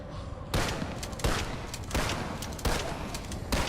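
A pump action shotgun fires in a video game, giving five heavy blasts at roughly even intervals. Each broadband boom rings out briefly before the next one.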